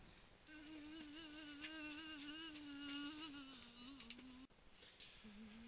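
A bee buzzes in a cartoon field with sheep, a steady wavering drone that rises and dips in pitch, then cuts off briefly and resumes.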